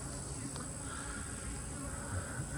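Honey bees at an apiary hive, where honey supers are being pulled, make a steady, unbroken buzzing hum that stays even and moderately loud throughout.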